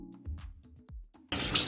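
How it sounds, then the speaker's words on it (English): Water from a shower douses low-porosity type 4 hair in a quick pulse, then pours in a steady close spray. "I just wanted to kind of douse my hair with a little bit of water"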